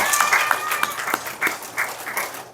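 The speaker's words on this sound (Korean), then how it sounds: "우리 수고하신 여러분들에게도 박수를 한번 하고 싶습니다. 정리하는 박수." A congregation at a Korean Sunday church service claps together in a rhythmic closing round, with distinct, evenly spaced bursts close by and a brief tone at the start.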